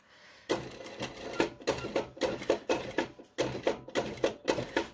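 Sewing machine topstitching a fly on trousers, running in quick, close bursts of rapid mechanical stitching separated by short pauses, each run lasting under a second.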